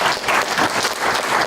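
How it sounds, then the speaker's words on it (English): An audience at a League of Women Voters candidate forum breaks into dense, sustained applause for the candidates, loud and continuous throughout, with no speech over it. "a round of applause for the candidates"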